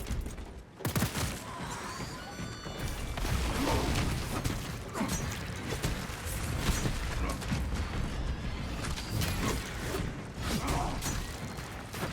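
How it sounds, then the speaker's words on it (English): Weapon reloading and a magazine change in the video game Space Marine, clicking mechanical clatter over constant dense gunfire and game noise, loud and continuous throughout. "Changing magazine"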